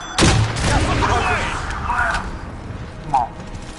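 Gunfire rings out in a first-person shooter game, a loud sharp burst at the start and another brief shot near the end, with several players talking over game noise.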